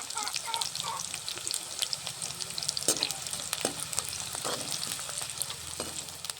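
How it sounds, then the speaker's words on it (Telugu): Onions with a pinch of rock salt sizzling in a pan in a village kitchen, a steady moderate fry with light stirring scrapes and no talk. "ఎర్రగడ్డలు త్వరగా ఎర్రగా రావడానికి కొద్దిగా కల్లుప్పు వేస్తున్నా"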